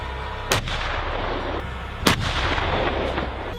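Two heavy cannon blasts, as from the 120mm smoothbore gun of an M1 Abrams tank, sharp reports about one and a half seconds apart over a constant rumbling roar, with fainter bangs between them.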